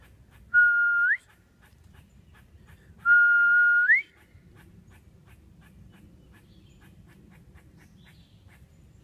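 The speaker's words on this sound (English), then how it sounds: "he knows that whistle" A person whistles to call a large pond turtle outdoors, two rising whistles about two seconds apart, clear and close over a low rumble of wind and background noise.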